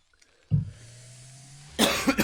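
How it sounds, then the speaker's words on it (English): A StarCraft commentator coughs into his microphone, with one sharp cough, a low hum, and then a louder burst of several harsh coughs, all close and unmuffled. "Sorry for all the coughing"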